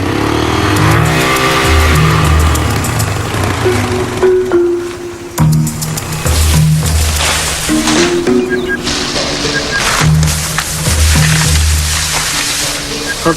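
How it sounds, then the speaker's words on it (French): A motorcycle engine revs up and pulls away, loud and close, with repeated rising and falling bursts of revving and gear changes over about thirteen seconds. "je la mets sur la moto et puis c'est parti"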